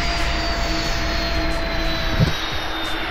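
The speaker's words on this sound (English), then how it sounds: "The APU goes off, the engines are started" Simulated F-35 Lightning II jet engines running on the ground in the X-Plane 11 flight simulator: a loud, steady, close roar with a high whine held throughout.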